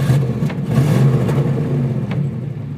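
A 1989 Camaro Z28 with a 305 V8 rumbles and revs nearby, a loud low-pitched engine note swelling and settling over a few seconds.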